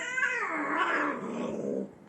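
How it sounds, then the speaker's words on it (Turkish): An irritated cat growls in a long, continuous low rumble that rises into a strained caterwaul, close and fairly loud, then fades out at the end. "Birazcık sinirli bizim kedimiz arkadaşlar."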